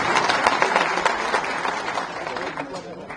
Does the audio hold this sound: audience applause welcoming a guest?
yes